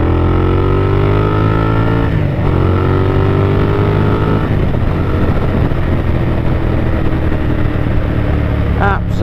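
A Honda VTR1000 motorcycle being ridden, its engine droning loud and close with rising and falling pitch as it runs through the gears, strong wind noise, and a voice heard over it.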